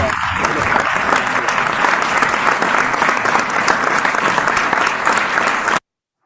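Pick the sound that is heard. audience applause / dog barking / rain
audience applause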